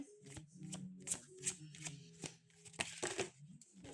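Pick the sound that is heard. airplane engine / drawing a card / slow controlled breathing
drawing a card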